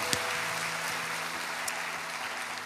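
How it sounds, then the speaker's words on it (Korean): A church congregation claps together at an early-morning revival service, a steady wash of applause running through the whole moment at moderate, somewhat distant level, with faint sustained tones beneath it. "우리 신실하신 주님께 감사와 영광의 박수 올려드립니다"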